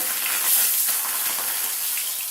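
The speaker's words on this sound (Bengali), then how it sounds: "মাছ দুটো ভেজে নেব।" Two fish sizzle in hot oil in a pan, a steady close-up hiss of frying that runs alone without pause or talk.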